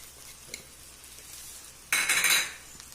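Chicken fried rice being stirred in a pan with added salt and coriander, giving a brief loud burst of utensil scraping and clinking near the end after quieter faint kitchen clatter.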